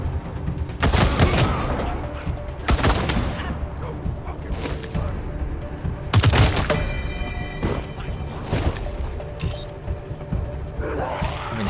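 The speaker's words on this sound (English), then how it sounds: "Oh, the stupid turret." Gun turret firing in the game Wasteland 3, with several heavy bursts of shots and booms separated by short pauses, loud and close over a mechanical hum.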